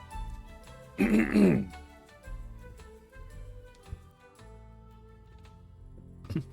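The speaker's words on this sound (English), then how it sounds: "Excuse me, clear my throat." A person clears their throat once with a short, loud, rough burst near the mic during a tabletop role-playing campaign session, followed by quiet background sounds and faint music.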